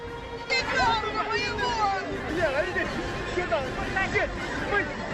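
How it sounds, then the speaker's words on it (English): A rowdy crowd of hundreds gathered in Kursk for free candy, a dense babble of many voices shouting and calling over one another, steady and close throughout. "In Kursk, hundreds gather in a rowdy crowd to receive free candy being handed out."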